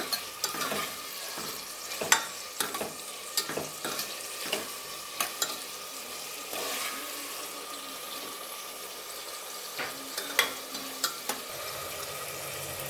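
Mint pulao masala stirred in a pan over a medium flame, repeated rhythmic scrapes and taps of the spoon against the pan over a steady light sizzle, a short pause midway, no talking.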